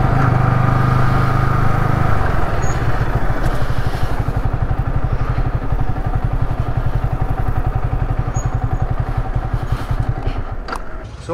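A Yamaha R15 V3 motorcycle rides at night through Bangalore near the airport, its engine droning steadily close up with a low rhythmic pulse and wind rush, and no talking.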